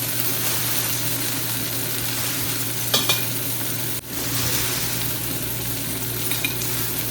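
Spiced tomato masala with turmeric, chili and coriander-cumin powder frying in a pan, a steady close sizzle with a few scraping stirs of the spoon partway through, no talking.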